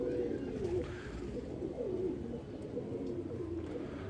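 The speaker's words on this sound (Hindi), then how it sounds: "ये भी वन टेल का कबूतर है" Soft, low cooing of a Ferozpuri pigeon repeats in gentle rolling phrases, faint against a quiet background hum.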